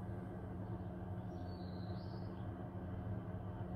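A mobile car and tent heater runs with its exhaust muffler removed: a continuous loud, rough engine roar with a steady low rumble and rattling texture, unmuffled and close, with no pauses throughout.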